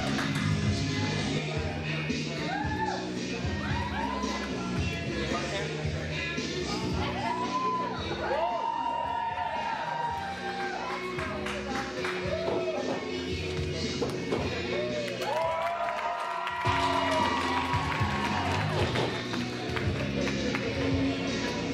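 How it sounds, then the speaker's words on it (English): Wrestling crowd at a Big Valley Wrestling show cheering and shouting as a wrestler enters the ring, a dense, continuous roar of voices, claps and yells sustained throughout with rising swells. "Great reception from the crowd."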